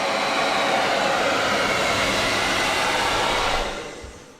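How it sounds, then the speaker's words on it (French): A hair dryer runs at full power as a steady, loud, even whoosh of air and motor hum, then fades down near the end as it is switched off. "Et si je rajoute le sèche-cheveux"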